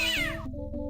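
A cat in the adventure game Day of the Tentacle gives a single clear meow, close and bright, dropping in pitch before a low game background hum.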